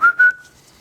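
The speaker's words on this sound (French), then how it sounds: "les sifflements, c'est un bruit que l'on fait avec sa bouche et on le fait parfois pour appeler des femmes" A two-note catcall whistle made with the mouth: a short rising blast, a brief gap, then a longer sustained tone that fades away, loud and close with nothing else around it.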